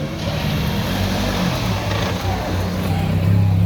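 Peugeot 208 R2 rally car driven by Steve Todd, its engine droning steadily and loudly throughout with a low rumble, swelling slightly near the end, while faint voices sit underneath.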